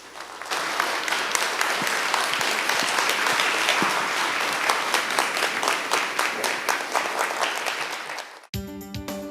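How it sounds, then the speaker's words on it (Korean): A lecture hall audience gives sustained, dense applause to welcome a professor at a science lecture series, loud and even for about eight seconds before cutting off abruptly into a different tonal sound. "예술을 사랑하는 여행자 전영백 교수님을 큰 박수로 환영해 주시기 바랍니다."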